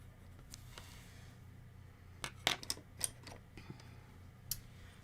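A Faber-Castell Polychromos colored pencil scratches and taps faintly on paper while drawing, with short irregular strokes and clicks over a quiet room hum.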